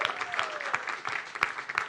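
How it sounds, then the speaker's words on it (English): A small launch-party crowd claps briefly for the executive producers, a short burst of scattered applause with a few sharper claps and some voice in the mix. "Round of applause for them."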